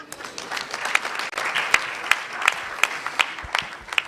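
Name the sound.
audience applause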